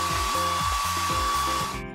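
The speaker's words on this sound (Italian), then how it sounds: "Ho un asciugacapelli!" A hair dryer runs steadily and loudly for about two seconds, a constant whirring hum with a high whine, while cartoonish music or effects play along, cutting off abruptly near the end.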